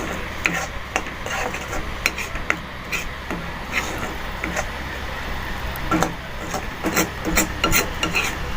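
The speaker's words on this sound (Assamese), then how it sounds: "আৰু ভালদৰে গোটেইখিনি মিক্স কৰি ল'ব।" Ingredients for butter chicken are stirred and mixed in a bowl, producing a continuous wet scraping and rubbing with irregular sharp ticks of the utensil against the side, close and moderately loud.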